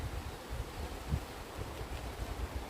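Wind blows by a river on a rainy day, gusting and buffeting the microphone with low rumbling, uneven and fairly faint, with no voices heard.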